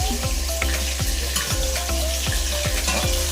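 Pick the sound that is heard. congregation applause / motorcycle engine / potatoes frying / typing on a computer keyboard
potatoes frying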